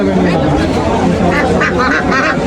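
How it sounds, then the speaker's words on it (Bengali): Belgian and Chinese ducks quack busily at a livestock market, dense overlapping calls close by amid a steady crowd hubbub, with a voice speaking over them. "বেলজিয়াম হাঁস আছে এখানে চীনা হাঁস আছে"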